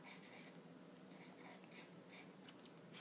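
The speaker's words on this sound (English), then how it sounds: "let's just go ahead and write down what we know" Quiet scratching of a pen writing out chemistry notes on ionic compounds, faint rubbing strokes in short irregular bursts with soft pauses between, no voices.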